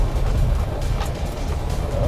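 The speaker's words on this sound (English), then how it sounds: "good diesel engine, lots of" The diesel engine of an off-road vehicle running hard on a fast section of an off-road course, a continuous low drone and road rumble, close and fairly loud, with no speech over it.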